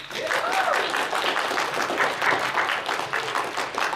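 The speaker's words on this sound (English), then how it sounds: "give me some applause" Audience applause in a conference room, a dense steady patter of many hands clapping at close range, with some faint voices mixed in throughout.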